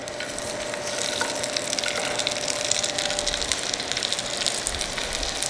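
Loukaniko Greek sausages fry in hot oil in a pan with a steady, close hiss and crackle, with scattered pops throughout and no talking.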